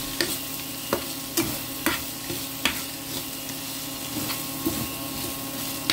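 Corned beef cooks in a pan with a soft sizzle, punctuated by sharp knocks and scrapes of a spoon stirring it at irregular intervals, close by and without voices.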